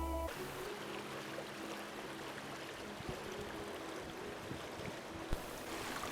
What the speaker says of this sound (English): I kept the sound of the water to show how peaceful this place is